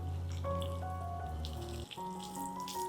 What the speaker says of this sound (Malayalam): ഇതിലേക്ക് കുറച്ച് വെള്ളം ഒഴിച്ചു കൊടുക്കുക